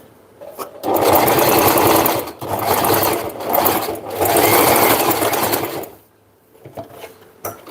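A sewing machine stitches in close, loud whirring runs, briefly interrupted twice, then stops, leaving faint handling clicks at the end.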